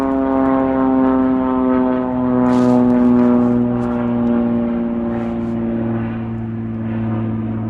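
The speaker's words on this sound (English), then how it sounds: "let's let the plane go by" A propeller airplane drones steadily overhead, its low engine hum swelling slightly and fading, with no voices present.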